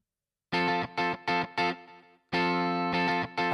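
Strummed pop chord loop from Reason's Backline Rig V3 guitar instrument, four short rhythmic chord stabs, a ringing decay, then a sustained chord followed by more stabs, loud and clean.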